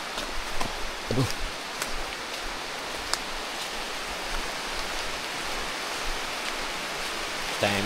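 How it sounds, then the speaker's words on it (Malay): Heavy rain falls through the forest canopy on a jungle hiking trail, a steady broadband hiss with no breaks, with a few scattered taps and knocks and a brief voice near the end. "Hujan lebat ni."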